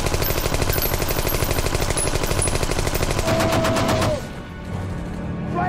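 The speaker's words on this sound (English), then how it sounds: "Nice shot, Irish." Rapid machine-gun bursts from a war film, a loud, continuous chatter of gunfire running for about four seconds before cutting off into quieter background rumble.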